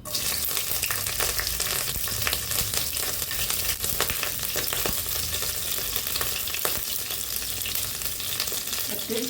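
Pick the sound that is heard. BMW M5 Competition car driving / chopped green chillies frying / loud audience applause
chopped green chillies frying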